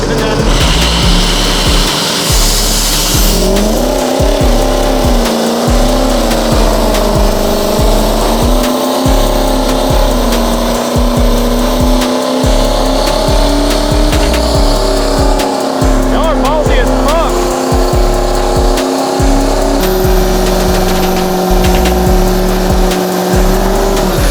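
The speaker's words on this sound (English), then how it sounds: "He's about to do the rowdiest burnout." A 1000HP 6.0L Powerstroke diesel truck does a burnout at a drag strip, its engine roaring loud and sustained with squealing tires, while people talk nearby.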